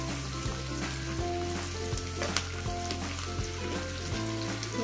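Korameenu fish fry in hot oil with a steady, close crackling sizzle that runs without pause beneath quiet background music.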